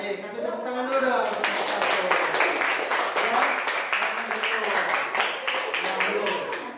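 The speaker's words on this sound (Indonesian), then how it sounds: "baik, kasih tepuk tangan dulu dong." A classroom audience at an Indonesian teaching assessment applauds with steady, dense hand clapping for several seconds, a voice briefly speaking over it.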